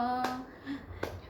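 Hands clap twice, sharp and spaced about a second apart, during Hare Krishna chanting at a devotional gathering, following a sung note and soft background voices.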